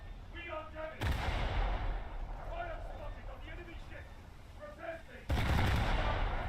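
Heavy naval guns from US Navy ships in the War Thunder game boom loudly twice, a few seconds apart. A voice talks between the blasts over a low battle rumble.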